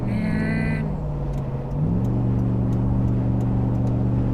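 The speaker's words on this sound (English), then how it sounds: "Don't you love that Hemi?" A Jeep's Hemi V8 drones low and steady nearby on a highway, dipping briefly and then settling into a stronger sustained hum, with a faint tonal whine at the start.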